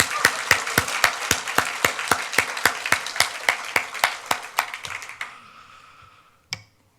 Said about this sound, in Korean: 이 기적 같은 일에 지금 참여하고 있는 중고등부 학생들 우리 박수로 한번 격려합시다